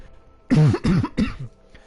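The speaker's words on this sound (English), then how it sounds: "Sorry for coughing" A streamer coughs three times in quick succession, close to the microphone, each cough harsh and throaty, then the room goes quiet.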